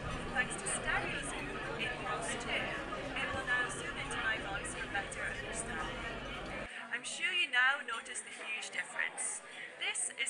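Busy crowd chatter fills the space as overlapping voices in a background babble during a hearing aid demonstration, then cuts off abruptly, leaving a thinner, quieter layer of murmuring.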